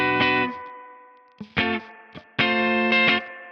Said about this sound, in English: This one's nice, it's kind of a bassier sound.